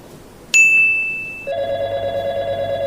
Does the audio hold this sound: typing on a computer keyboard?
no